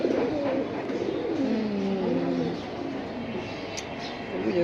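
Pigeons at a Bengali pigeon market or loft cooing in low, throaty rolling bursts, steady and close, with faint background noise and no clear talk.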